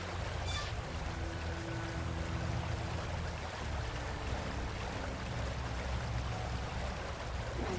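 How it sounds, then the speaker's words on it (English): Steady rushing flow of water in the Xenoblade Chronicles game world, a broad continuous wash with a low rumble underneath and a faint tonal hum of ambient music. "Water's kind of crazy."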